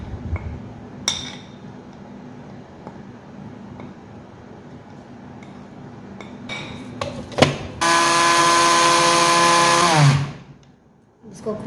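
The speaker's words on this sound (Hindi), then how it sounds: "इतना पीसूँगी कि बिल्कुल पाउडर हो जाए।" Nihari spice mix ground to powder in an electric grinder, first quiet clinks and handling, then a loud close whirring motor run of about two seconds that winds down to a stop.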